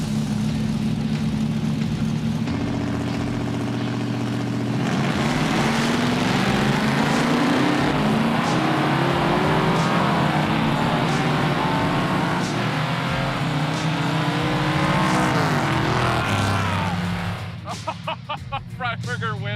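A Gasser Chevy drag car revs hard to about 7,500 RPM with tires spinning, a loud sustained engine roar that climbs and holds, then drops away near the end, with voices talking over it.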